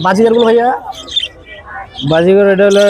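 Loud, harsh bird squawks and calls come from close by at a busy bird market where pairs of birds are sold. The calls arrive in two strong bursts with brief chatter between them.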